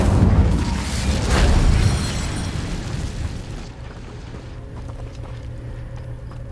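Incendio fire spell cast in Hogwarts Legacy, a loud whooshing burst of flame that swells and roars for about two seconds, then fades into a quieter low rumble.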